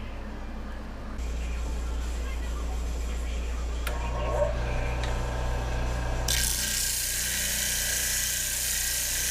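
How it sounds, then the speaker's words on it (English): A disc grinder runs with a steady motor hum while burrs are ground off drilled holes in a steel knife blank. Its tone shifts as the metal is pressed against the disc, and a harsher grinding noise takes over near the end. "I'll go over here and always deburr them on a disc grinder."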